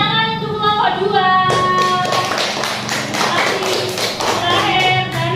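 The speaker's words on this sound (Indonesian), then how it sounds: "Tepuk tangan untuk kelompok 2." A classroom of children claps for a student group, with rapid, loud, dense hand claps alongside tonal voices and chatter.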